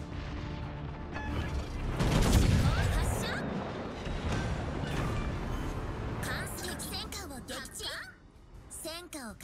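Battleship Iowa's naval guns fire in a video game: a deep, heavy boom swells early and rumbles on, followed by mechanical clatter and scattered impacts, with a voice speaking over the din.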